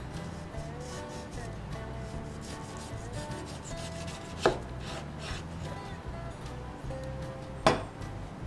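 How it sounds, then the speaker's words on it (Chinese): Kitchen cleaver slicing on a cutting board, with soft repeated chops and scraping cuts at a steady pace, plus two sharper knocks, all at close range over a faint background hum. "你看果然用菜刀切起来更加方便"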